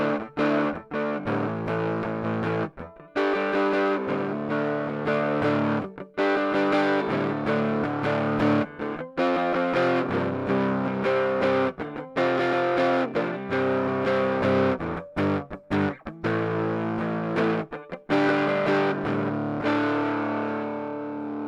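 Electric guitar with distortion played through an amplifier and recorded at home via a Focusrite interface, loud sustained chords and riffs running continuously with brief gaps between phrases, no talking.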